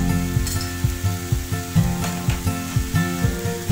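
Chopped onion and pepper frying in fat on an electric griddle: a continuous sizzle under louder rhythmic background music, with no voices.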